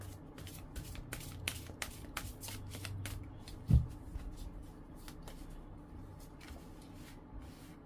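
Tarot cards shuffled for a reading give a steady run of soft, rapid riffles and taps, close and clear over a low background hum, with one louder thump midway and no speech.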